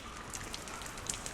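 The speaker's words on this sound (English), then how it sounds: "Like the drops or the rain is like super loud" Rain falling in World of Warcraft, a loud, dense, steady hiss of drops with occasional brighter splashes close by, heard alone.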